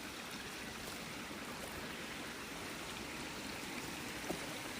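A small stream flows beside an old countryside watermill, a steady, dense rush of running water with no pauses, close and even throughout.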